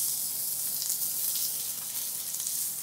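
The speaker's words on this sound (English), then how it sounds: "You can hear the frying of it." Steady, loud sizzling of squash frying in a hot pan, a constant crackling hiss with no voices.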